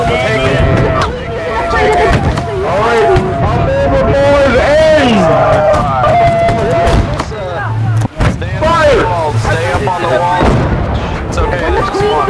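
Musket volleys crack out across a Holdfast video game battlefield, with heavy booming shots and bursts of gunfire under loud shouting and a babble of many voices.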